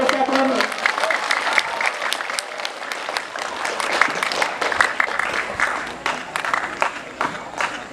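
Audience at an Indonesian school outreach talk on drug and free-association dangers applauds Ustaz Romi, sustained dense clapping from a large crowd with some voices mixed in.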